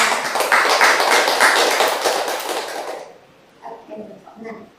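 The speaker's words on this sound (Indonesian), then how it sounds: "Silahkan berikan aplaus untuk temannya." Students clap for a classmate in a classroom biology lesson, a brief burst of clapping lasting about three seconds, then fading into quieter voices and light knocks.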